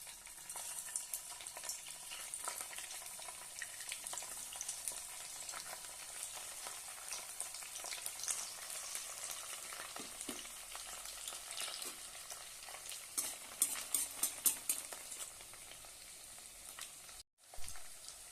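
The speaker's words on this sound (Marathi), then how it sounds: "मस्त असं आपलं तेल गरम झालेलं आहे त्यामध्ये आपण हे पकोडे घालूया" Pakoras made from leftover rice bubble and crackle steadily in hot oil, a soft continuous sizzle with scattered pops and a faint stirring scrape near the end, no voices.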